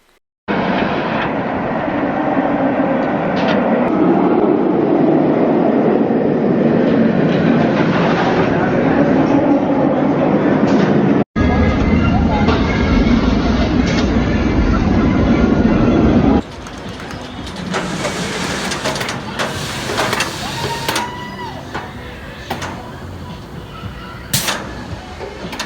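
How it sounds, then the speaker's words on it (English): A train rumbles loudly in over a track brake with rolling, grinding noise, then shifts to a sharper, hissing burst of air release, with clanks. "the train will come in, pass over the brake, through the brake, and then you'll hear air release"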